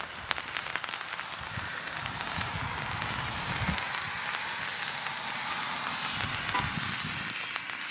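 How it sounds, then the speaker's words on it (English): Very active steam vents beside a parking lot at Kilauea Crater in Hawai'i Volcanoes National Park give off a steady, airy hiss that holds fairly constant, crackling faintly like rain or sizzling, with no one speaking. "These are very active steam vents right here by the parking lot itself."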